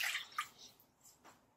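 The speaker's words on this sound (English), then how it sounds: "in a separate bowl, we're going to take 1 cup of water" A cup of water poured into a separate mixing bowl in a home kitchen while making breakfast, heard as a brief soft splash and trickle that fades into a few faint drips.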